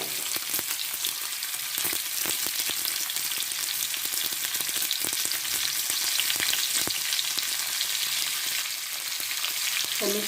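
Sizzling in a pan during cooking of a Bengali mustard drumstick curry as salt and turmeric go in, a steady crackling fry with scattered sharp pops and occasional stirring clicks, fairly close and uninterrupted.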